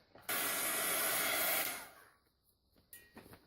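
A dryer blows on craft paint on an art journal page in a loud, close, hissing blast of about a second and a half. The blast then dies away into faint handling noises.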